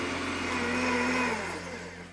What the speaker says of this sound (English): I'm gonna turn on the blender and drizzle this in slowly